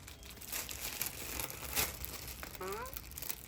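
Gift wrapping crinkles and tears open at a family Mother's Day treasure hunt, a run of papery rustles with a brief voice partway through.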